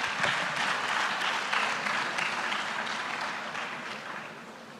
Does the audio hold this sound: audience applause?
yes